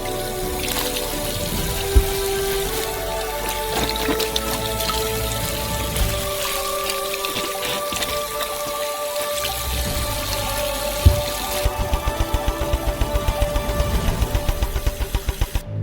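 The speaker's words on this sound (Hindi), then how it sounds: "प्रत्येक ऑरेंज को अच्छी तरह से धोया जाएगा।" Oranges being washed in a sink filled with water, with continuous splashing and trickling, a few sharp knocks, and a faster rhythmic sloshing toward the end.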